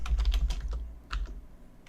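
Quick bursts of keystrokes on a computer keyboard, close and crisp, with a short pause midway before another cluster of taps; no voice present.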